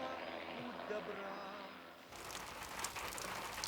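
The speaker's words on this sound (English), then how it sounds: "The rain sets in" A steady rain begins at a hunting lodge in the subarctic, broad and close. It comes in suddenly after a quieter stretch of low rumble.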